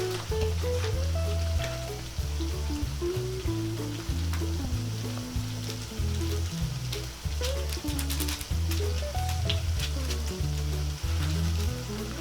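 Cassava turon frying in a pan with brown sugar, a steady sizzle and crackle of hot oil running throughout, heard close beside a loud low repeating tonal background pattern.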